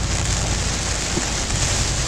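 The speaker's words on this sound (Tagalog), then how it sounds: "First time ito nakaranas ng makapal-kapal nga ulan." Heavy rain heard from inside a vehicle on the road, a loud steady wash of noise with no letup across the whole moment.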